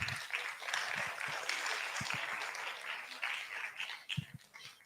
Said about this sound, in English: Give yourselves a round of applause again for being here.